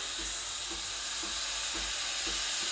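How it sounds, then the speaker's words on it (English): Espresso machine steam wand (Breville Barista Express BES870) steaming milk in a jug, a steady close, moderately loud airy hiss with a faint rhythmic gurgle, no talking. "you need to practice the technique if you don't know how to steam milk"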